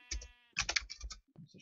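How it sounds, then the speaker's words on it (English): A sheep bleats in a short wavering cry, followed by a second burst of bleating, then a few faint low clicks and shuffles in a quiet indoor-sounding space. "It's a sheep."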